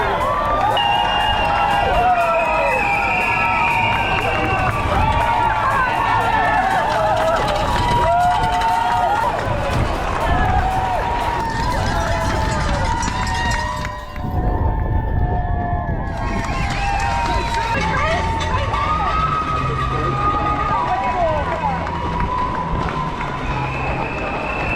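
Dense roaring crowds cheer, whoop and shout along the London Marathon 2022 course, loud and continuous around a runner, with children's voices and bursts of cheering rising through the noise.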